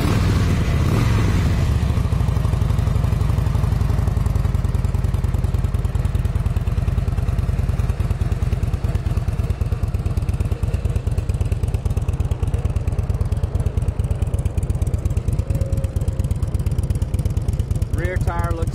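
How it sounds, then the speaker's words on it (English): A fuel-injected 2006 Harley-Davidson Deluxe FLSTNI V-twin starts with a brief crank, then settles into a steady, loud, close-up idle with an even low throb that continues unchanged to the end. "It is a fuel injected bike, so we'll fire it off and give it a listen right quick."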